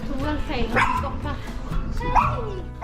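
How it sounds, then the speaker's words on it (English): A small guard dog barks and yips in short sharp bursts out in a city street, close and loud, with a couple of higher whimpering yelps mixed into steady background noise. "This little guard dog probably tried to tell us we were going the wrong way."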